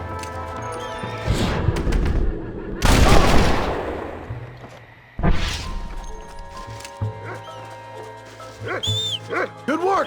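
Gunshots ring out in the video game Red Dead Redemption, a few sharp, loud cracks spaced several seconds apart, each trailing into a rumbling echo, with lighter clatter and scattered sounds in between.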